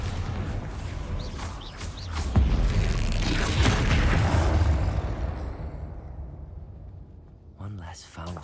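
A Bombarda blasting spell from the Hogwarts Legacy video game goes off as a deep booming explosion that swells and rumbles for several seconds before fading, with a voice heard near the end.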